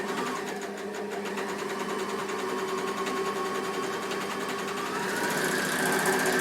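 A Bernina L450 overlocker stitches down the side of fabric, its rapid steady mechanical whirr running close and continuous throughout, rising slightly louder near the end.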